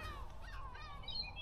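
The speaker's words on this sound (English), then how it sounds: "lots of seagulls." Seagulls call nearby in a loud, squealing series of rising and falling cries over a steady low outdoor rumble.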